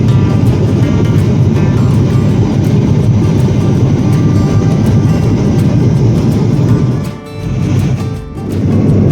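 Steady, loud airplane cabin drone during a low-cost flight from Bengaluru to Salem, a dense continuous roar with rumbling low end that dips briefly twice near the end, no talking.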